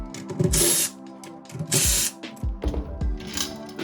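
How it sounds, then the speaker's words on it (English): An impact drill removing the tension rods from a drum set's heads runs in short, loud bursts, whirring two or three times with pauses and small clanks of hardware between. "the first thing I'm going to do is take off all the heads with my impact drill here."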